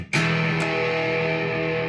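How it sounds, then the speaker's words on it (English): An electric guitar chord played through a Joyo Bantamp XL Jackman 2 amp with overdrive engaged strikes hard, then rings out as a thick, distorted, sustained tone that fades slowly. "And we got a pretty decent distortion."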